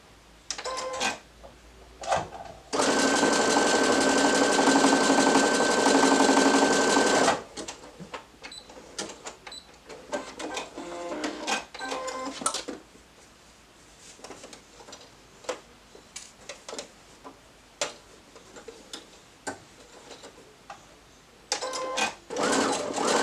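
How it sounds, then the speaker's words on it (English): A sewing machine runs a zigzag stitch along a fabric headband, with a steady whirring rattle for several seconds, then short stop-start bursts and clicks through the rest. "I'm going to go ahead and sew a zigzag stitch right here."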